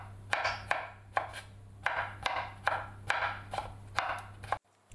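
Sharp knife chopping pickles on a cutting board, a steady series of crisp chops about every half second, close and clear with no talking.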